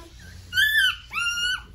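Newborn puppy whimpering during a dog's birth: two drawn-out, high whining cries, close and fairly loud, with a short pause between them over a low background.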